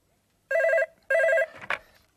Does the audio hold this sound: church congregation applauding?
no